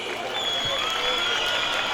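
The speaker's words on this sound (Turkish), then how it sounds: "çok değerli vekilim İbrahim Ethem Sedef Beyefendi'yi bir daha alkışlayabilir miyiz?" Audience applause from a crowd at an outdoor summer festival concert in Sorgun, with steady, moderately loud clapping that carries on evenly for about two seconds.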